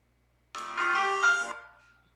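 Short electronic chime of a phone text message notification, a single tonal alert of about a second that fades out, heard alone in quiet.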